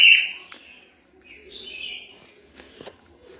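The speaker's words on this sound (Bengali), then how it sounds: "দারুণ পাখি গো, দারুণ পাখি।" Small caged birds in a bird shop give thin, high chirps and short calls, a few separate notes with quiet gaps between them, fairly close and moderately loud.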